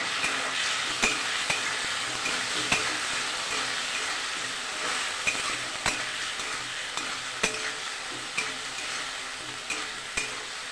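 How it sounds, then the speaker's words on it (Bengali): Potatoes fry in a pan with spices, salt and turmeric, sending out a constant loud sizzle while a spatula stirs them, tapping and scraping the pan at irregular intervals. "মশলার সাথে আমি লবণ হলুদ দিয়ে দিয়েছি, ভালো করে ভেজে নেব।"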